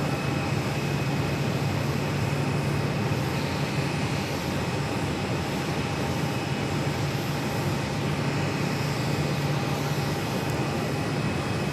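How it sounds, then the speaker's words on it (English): A Contour Embraer E135 jet taxiing at Phoenix airport gives a steady, loud engine roar and whine that holds constant for the whole stretch without a break. "We have another Contour E135 going to be taxiing in front of us"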